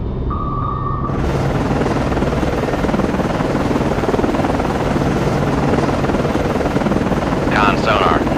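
A helicopter drones loud and close in the naval submarine game Cold Waters as an aircraft returns to base, a constant rotor-like roar with a short electronic tone near the start and a brief voice near the end.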